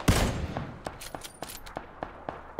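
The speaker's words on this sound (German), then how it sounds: "Oh, schießt er auf dich?" Gunfire in a multiplayer battle royale video game near an airdrop: a loud opening burst followed by about eight spaced single shots at a steady rhythm, fairly close and alone without talk.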